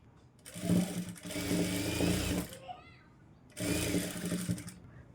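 An electric sewing machine stitches the hem of a sari petticoat, whirring in two loud sustained runs separated by a brief pause.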